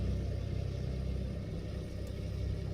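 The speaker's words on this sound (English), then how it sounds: "you see how I braked and it automatically changed down those gears" A DAF XF Euro 6 truck in Euro Truck Simulator 2 rumbles steadily as its automatic gearbox downshifts under braking, with a low, even engine drone and no talk.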